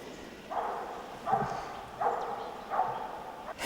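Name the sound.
dog barking during boar hunt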